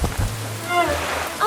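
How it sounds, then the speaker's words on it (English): Rain pours down steadily in a cartoon rainstorm, a continuous hiss of falling water with a brief whistling tone over it. "the rain starts pouring down"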